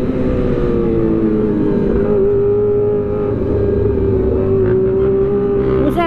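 A Kawasaki ZX25R inline-four engine revs high and loud during an overtake, a sustained buzzing whine rising steadily while wind roars around it.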